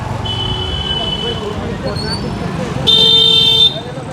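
Street traffic in a busy shopping area, a steady engine and road rumble with a few short car horn toots and one longer, louder honk near the end, while people talk over it.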